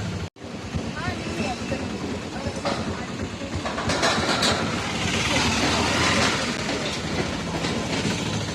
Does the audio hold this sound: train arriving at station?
yes